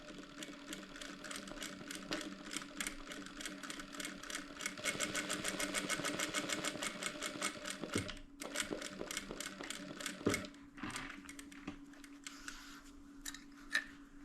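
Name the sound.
sewing machine stitching a cosmetic bag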